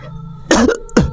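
Two sharp coughs close up, a longer harsh burst followed by a shorter one, after a moment of quiet.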